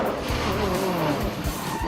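A rally car slides through a corner with its hydraulic handbrake locking the rear wheels, tyres squealing and skidding loudly over a roaring engine, close by and continuous.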